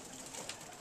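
Pigeons coo softly in a short, steady burst, with faint overlapping calls at a low level and no voices.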